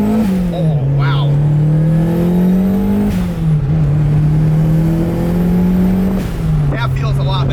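A turbocharged Mazda Miata running E85 accelerates hard, its engine note climbing steadily through the gears with brief dips at each shift, loud and close from inside the car.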